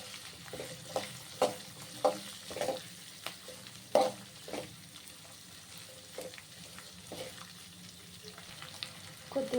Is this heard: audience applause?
no